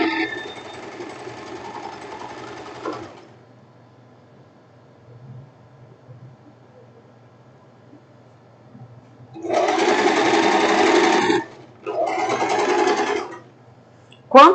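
A sewing machine stitching a French seam on a silk tank top, running in bursts: one stretch of steady whirring, a long pause with low hum, then two more close, loud runs separated by a brief stop.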